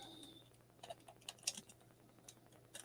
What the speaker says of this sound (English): I'll type this in.